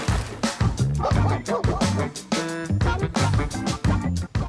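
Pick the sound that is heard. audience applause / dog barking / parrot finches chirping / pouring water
dog barking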